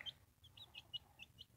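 A yard hen makes a quick run of faint, evenly spaced clucks, about eight short calls in under two seconds, distant and quiet, with no talk.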